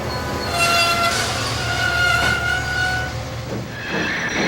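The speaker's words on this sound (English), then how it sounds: "Whereas Mavis's brakes sound like this." Mavis the diesel engine braking, with a loud, sustained squeal of wheels and brakes over a heavy rumbling roll that eases off near the end.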